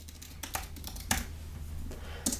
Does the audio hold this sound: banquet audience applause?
no